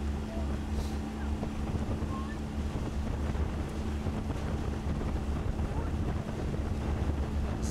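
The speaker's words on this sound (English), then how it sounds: "Wind is kicked up just a little bit here as this Lake Carnegie opens up." Steady wind rushing over open water on Lake Carnegie during a collegiate heavyweight rowing race, a continuous broadband roar with low buffeting against the microphone and a faint hum, with no clear voices.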